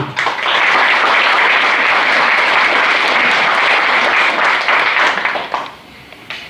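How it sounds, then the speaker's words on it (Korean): Loud, dense audience applause at an alumni association general meeting for a departing president, a sustained roar of many hands that fades out near the end. "큰 박수를 부탁드리겠습니다"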